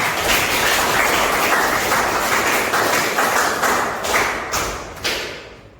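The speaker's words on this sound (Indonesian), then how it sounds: "Baik, tepuk tangan" A classroom of students bursts into applause, dense clapping that holds for several seconds and then thins out in a few final rounds before stopping.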